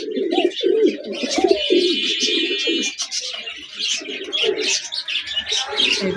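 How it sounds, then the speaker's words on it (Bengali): Pigeons kept at a shop coo and warble close by in overlapping low calls, with fainter chirps and background voices mixed in. "দেখার মতো কবুতর।"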